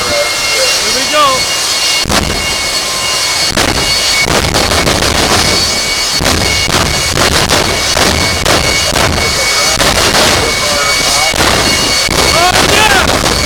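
The Extreme Machine jet-powered truck roars down a drag strip quarter mile at the Citrus National 2008, a loud sustained jet blast broken by repeated sharp afterburner pops and cracks, with a crowd cheering underneath.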